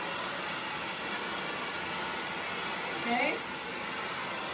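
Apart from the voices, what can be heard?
blow dryer drying hair with a round brush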